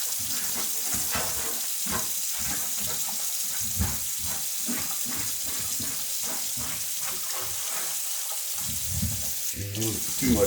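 Kitchen tap water runs and splashes onto a pan to wet it down, coming in repeated bursts of rushing water up close, with a brief clatter near the end.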